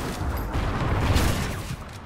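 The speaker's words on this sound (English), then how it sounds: "Friendly Trinity rocket inbound" Trinity rocket killstreak explosions from Call of Duty: Ghosts, a dense, steady rumble of blasts and booming impacts that fills the whole stretch at even loudness, with no speech.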